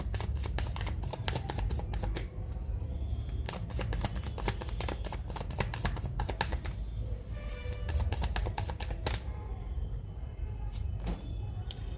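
Tarot cards being shuffled for a card reading, a rapid run of crisp riffling snaps and flicks that keeps going almost without pause, close and quiet, with no voice over it.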